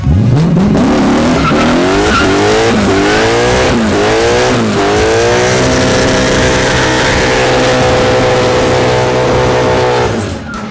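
A rebuilt, once-abandoned Mercedes with a swapped engine does a loud, close burnout, with a revving engine and squealing tires that rise and fall in pitch several times before settling into a sustained screech that cuts off at the end.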